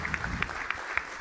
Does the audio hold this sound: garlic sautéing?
no